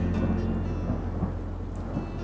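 Heavy rain pours with a low rolling rumble of thunder underneath, a loud, dense and continuous storm sound with no voices.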